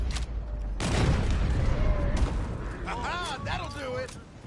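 Gunfire in Red Dead Redemption 2 during a roadblock chase erupts in a sudden loud, rumbling burst, followed by character voices talking over the noise.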